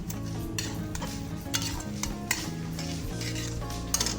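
Spices and a little sugar are stirred in a pan for a Bengali okra chorchori, with a utensil scraping and clinking in irregular strokes over a steady, close-up sizzle and a faint continuous hum.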